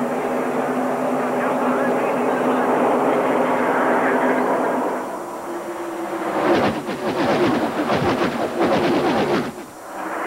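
At the 1993 Daytona 500, a steady roaring hum gives way to loud rushing whooshes as several fast stock cars tear past nearby, one after another.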